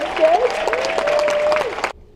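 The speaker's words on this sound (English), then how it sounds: "let's keep that applause going for our new friend Lennon" Audience applause at a Las Vegas magic show at the Westgate, a steady burst of clapping with a voice running over it that cuts off abruptly near the end.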